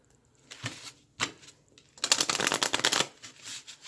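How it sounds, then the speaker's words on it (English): A deck of heavy cardstock cards is shuffled by hand, with a few separate soft riffles and taps followed by one longer, dense flurry of card flutter, heard close and alone. "This deck is kind of difficult to shuffle, so I'm going to separate it up."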